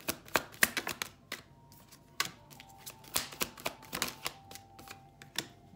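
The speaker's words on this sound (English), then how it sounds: "You see I'm shuffling." Cards are shuffled in a quick run of crisp riffles and taps, close and fairly quiet, with irregular bursts and short pauses and no talking.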